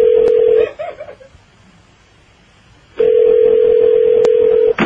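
A telephone being dialed for a call on a radio show: a steady dial tone sounds, then a run of quick dialing tones, a near-silent pause, and the steady tone returns with a few clicks, loud and close, with no talk over it.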